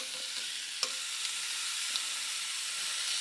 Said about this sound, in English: we'll set our first piece on the grill. And you should, hopefully, it's hot enough, hear like a little sizzle when I lay down.